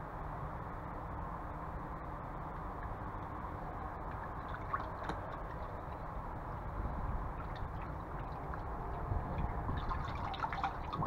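A console controller part soaks in a bath of liquid, giving soft, steady dripping and faint sloshing close by, with no talk.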